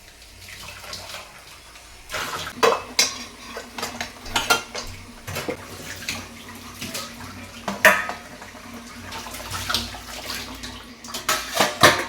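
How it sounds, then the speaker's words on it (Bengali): Kitchen utensils and dishes are rinsed under a running tap, with irregular clanks and clatters of metal over a steady splash of water, close and fairly loud. "যেগুলো লাগবে সেগুলো এসে একটু ফটাফট করে ধুয়ে নেব"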